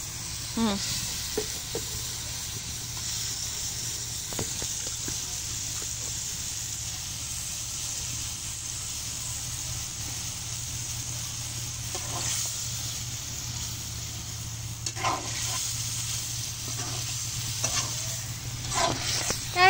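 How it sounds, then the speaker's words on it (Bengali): Meat frying in a pot for biryani at an outdoor picnic, a steady sizzle and hiss running throughout with repeated scraping stirs, louder bursts of stirring near the end. "বিরিয়ানি রান্না করার জন্য মাংস ভাজতেছি"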